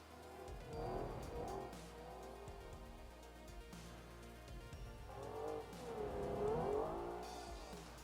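A replica 1963 Ferrari 330 America in the BeamNG driving game, lapping the handling course of a test track: the engine revs rise and fall through two surges with tire squeal, close and steady, with no talk.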